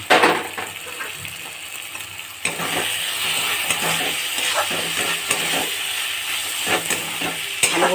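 Fish with sesame, joined by potatoes, sizzles and crackles loudly in an oiled pan, a constant close hiss broken by repeated scrapes and clinks of a spatula stirring.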